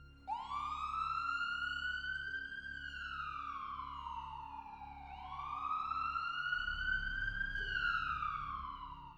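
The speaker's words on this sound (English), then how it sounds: "we heard sirens in the distance." Police sirens wail in long rising and falling sweeps, fairly faint and distant, repeating over a low steady rumble.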